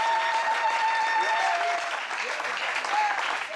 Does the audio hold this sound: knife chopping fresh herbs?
no